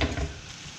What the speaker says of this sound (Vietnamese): Xào thịt, xào tôm mà các bạn muốn cho nó không có ra nước á, thì mình xào với lửa lớn ha.